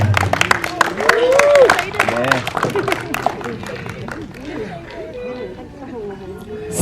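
Audience at a press conference for the film "The Bell: Panggilan Untuk Mati" applauding, bright clapping strongest early on and then thinning out, with people chattering and talking throughout.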